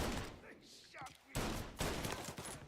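Gunfire in the video game Mafia Definitive Edition, bursts of shots crackling in a dense mix over game sound, with voices talking at points.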